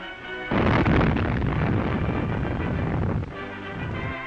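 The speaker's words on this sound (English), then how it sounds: "every strange ship is liable to be stopped in her tracks with a warning shot across her bows" A coastal defense gun fires a warning shot, one loud booming blast that bursts in after half a second and rumbles on for about three seconds before fading into a lower hum.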